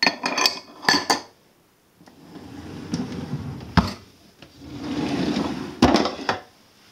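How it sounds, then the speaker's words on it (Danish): Pans clattering and metal cookware clanking as a kitchen drawer full of pans, frying pans and grill pans is pulled open, with several sharp knocks and rattles between quieter rummaging, close and alone without speech. "Så har jeg min skuff med pander og"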